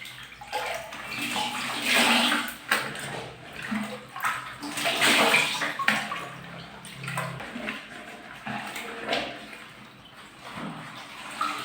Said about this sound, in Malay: kita akan masukkan kain ini ke dalam serap dan perah